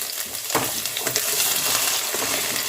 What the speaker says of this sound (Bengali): আলুগুলো ভেজে নিচ্ছি আলুগুলো বেশ লালচে করে ভেজে নিয়েছি